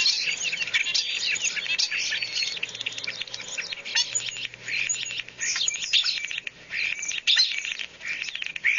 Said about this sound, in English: it's usually just clicking, warbly, mechanical sounding squeaks